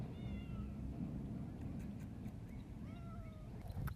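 A stray cat in storm-damaged Central Arkansas after the April 2014 tornado meows twice, an early drawn-out call and a later pair of wavering cries, fairly close over a steady broadband outdoor hiss.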